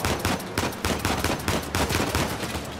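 Rapid automatic gunfire from a firefight in the Uncharted 4 video game rattles in dense, loud bursts with barely any gaps between shots.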